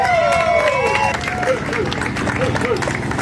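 Crowd noise from a cheering section at a beach motorcycle show award ceremony, a steady hubbub of voices and whoops with some whistles, fairly close and continuous throughout.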